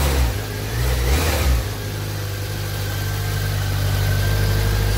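A BMW K1100 motorcycle engine idles loudly nearby during throttle body synchronisation, then a throttle blip briefly raises the revs before it settles back to a steady, throbbing idle, with no talking.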